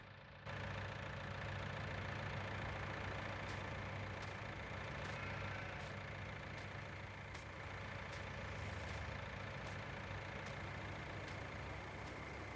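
An old Ford tractor idles in Farming Simulator 19 on a sheep farm, a steady mid-pitched diesel rumble with faint regular ticking, holding close and even throughout with no talking.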